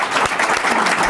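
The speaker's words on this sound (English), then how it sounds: "let's give them all a round of applause" A lecture-hall audience claps for a panel on emerging democracies in Egypt and Tunisia, giving brief, loud, dense applause at close range.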